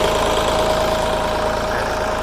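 A Kubota L3608 tractor diesel engine idles steadily at close range, a continuous low rumble with a faint knocking pulse and no voices over it.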